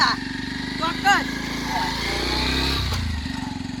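A motorcycle engine runs with a steady, throbbing idle close by, dipping and rising slightly, while people talk over it.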